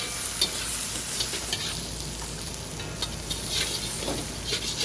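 Noodles with tomatoes being stir-fried in a very hot wok for Pad Kee Mao, a steady close sizzle broken by repeated scraping and clattering strokes of the spatula, no voices.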